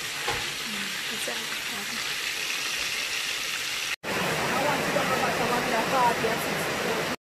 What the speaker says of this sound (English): So I'm just gonna light the stove and let it warm up because it is a cast iron pot